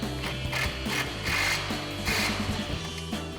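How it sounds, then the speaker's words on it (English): Ratchet wrench and socket tightening bolts on a Barricade aluminum retractable tonneau cover for a 2009-2018 RAM 1500, a close, steady run of rapid clicking with short pauses, no talk. "So now we can tighten our two bolts down"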